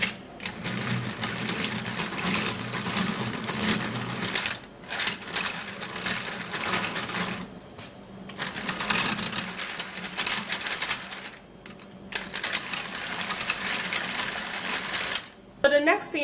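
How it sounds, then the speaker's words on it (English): A hand-cranked manual mixer whirs steadily through a skincare mixture, a busy rattling churn that keeps going with a few brief pauses. "I'm going to be using my manual mixer, and then I'm going to mix this and mix it really well"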